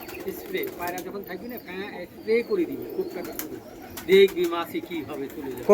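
Pigeons coo softly a few times nearby, with low murmuring talk going on around them.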